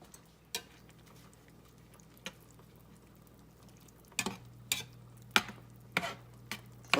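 Spices and seasonings stirred into a simmering pan, heard as sparse faint taps and scrapes of a utensil over a quiet background bubble, growing busier toward the end, with no talking.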